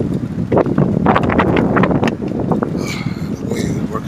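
Wind buffets the microphone while riding a bicycle along rough, potholed city streets, a steady loud rumbling roar with rustling bursts and a brief higher whistle near the end.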